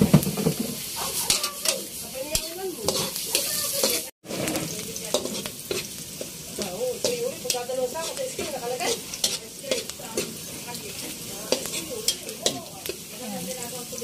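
Ginger, garlic and black pepper sautéed and stirred in a hot pan for pork dinuguan, with a steady loud sizzle and frequent spatula scrapes throughout, briefly cutting out once.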